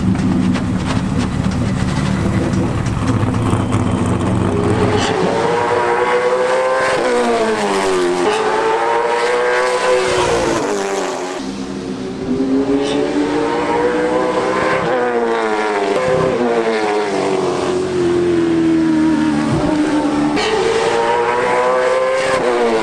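Race cars testing at Florence Motor Speedway pass with loud, rising and falling engine revs, several sweeping accelerations and lifts that carry on continuously and alone for over twenty seconds.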